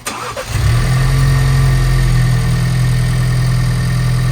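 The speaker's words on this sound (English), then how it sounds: "So we're now about to do a cold start, and let's see how it sounds like" A Ford Bronco with Roush Performance upgrades and an MBRP exhaust cold-starts: the engine cranks briefly then roars to life, settling into a loud, steady, rumbling idle close by.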